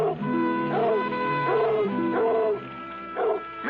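A dog from a 1962 film, heard in a run of drawn-out whimpering howls and yips, loud and close, rising and falling in repeated tonal cries over a low steady background.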